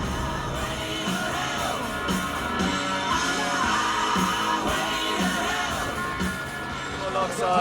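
A dense crowd at the Cape Epic mountain bike race roars and cheers continuously, with yells and whoops rising over a steady wall of noise.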